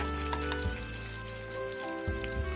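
Peanuts frying in hot oil in a pan for pulihora, a soft continuous sizzle with faint background hum, heard close but quiet and alone.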